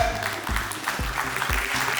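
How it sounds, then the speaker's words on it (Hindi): A Rotary club installation audience gives a standing ovation, a steady wash of many hands clapping continuously throughout, dense and fairly close, with faint crowd murmur underneath. "इसलिए स्टैंडिंग ओवेशन इनको मिलता है, जो कि हमारी प्रथा है।"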